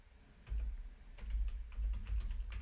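Keys on a computer keyboard are typed in short bursts of soft, close clicks and thumps, with brief pauses between the runs of keystrokes.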